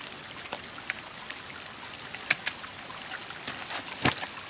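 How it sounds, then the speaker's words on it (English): A small trickling winter creek, water dribbling and splashing softly with scattered brighter drips and a couple of sharper splashes, close by and otherwise alone. "I'm standing in a winter creek. I've got this trickling winter creek"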